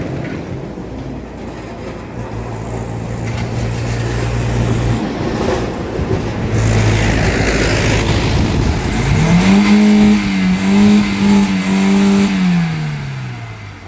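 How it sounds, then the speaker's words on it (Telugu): A vehicle engine in good condition turns over and starts, then idles with a rising rumble and is revved in several loud, close pulses near the end, with no talking. "ఒక్కసారి స్టార్ట్ చేసి మీకు రేస్ ఇచ్చి కూడా చూపిస్తాను, చూడండి."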